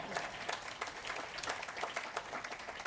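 Steady applause from a crowd, dense clapping rising and falling slightly over a few seconds, moderately loud.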